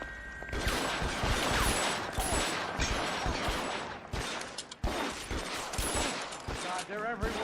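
Dense gunfire from a shootout in the video game L.A. Noire, rapid overlapping shots and bursts filling the clip at loud volume, with excited voices talking over it.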